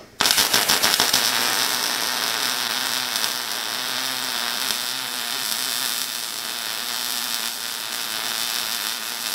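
Steady, dense crackle from a Miller 255 welder laying a bead on pipe. It starts abruptly, stays loud and unbroken for about nine seconds, and no one speaks over it.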